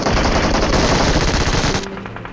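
Sustained automatic gunfire from a PUBG Mobile battle, a loud, dense stream of rapid shots rattling for about two seconds before dropping to a quieter tail, with no talk.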